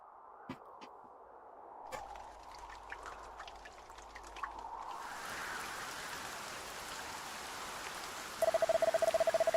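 Rain falls in the video game Dragon Quest 1 HD-2D as a steady hiss that swells in partway through, preceded by scattered faint ticks and ending with a rapid electronic beeping tone.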